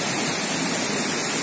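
Waterfalls pour steadily at Dhansar Baba cave, a dense, unbroken rush of falling water filling the whole clip at close range with no voices.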